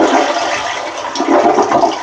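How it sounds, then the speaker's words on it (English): A household toilet flushing close by while being winterized with antifreeze, a loud, steady rush of churning water throughout. "Now I'm going to flush this"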